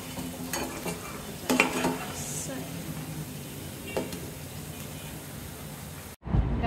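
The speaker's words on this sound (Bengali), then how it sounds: "মচমচা করে ভেজে নিচ্ছি।" Red lentil fritters frying crisp in hot oil, a steady close sizzle with occasional stirring scrapes and clinks, cutting out abruptly near the end.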